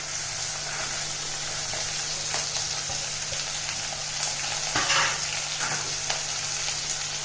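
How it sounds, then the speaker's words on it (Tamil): Chopped tomatoes and onions sauté in hot oil for a tomato chutney, giving a steady, close sizzle with faint stirring scrapes and a slightly louder burst of crackle midway. "தக்காளி, வெங்காயம் எல்லாமே ஒன்றாவே போட்டு வணக்கிடலாம்."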